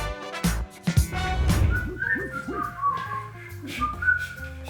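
A person whistles a melodic tune while walking into a kitchen on a cooking show, clear and close, preceded by a few knocks and rustles.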